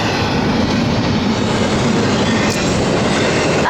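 A train rolls past close by, a loud continuous rumble of wheels on track with a clattering rhythm and a faint squeal near the end, with no talking.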